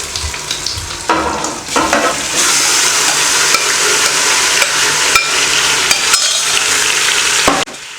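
Marinated chicken is added to browned fried onions for Hyderabadi dum biryani, with a loud close frying hiss that swells after a clattering drop and is stirred with scraping spoon strokes, no talking.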